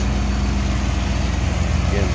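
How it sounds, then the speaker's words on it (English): A 1992 Chevrolet Camaro RS 25th Anniversary with a 305 V8 idles smoothly, a steady, close low rumble holding an even pulse throughout. "Hear how smooth that engine idles and runs."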